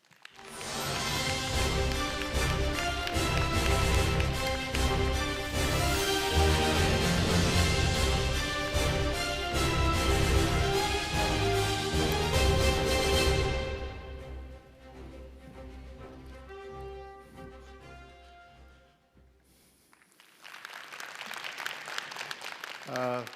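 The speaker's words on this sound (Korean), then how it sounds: "박수로 모시겠습니다." Audience applause at a Korean regional policy forum welcoming Busan Mayor Park Heong-joon to the stage, with loud walk-on music dominating first, then fading into a burst of crowd clapping.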